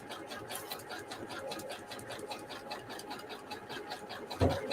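Close, continuous whirring of a sewing machine stitching fabric scrap pieces together, running steadily for a few seconds before a sharp clunk at the end.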